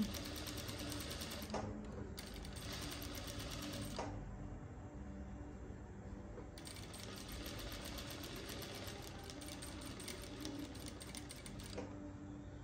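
Sewing machine stitching light-coloured fabric, heard as a steady close mechanical whir that runs in long stretches with brief pauses, with no talk.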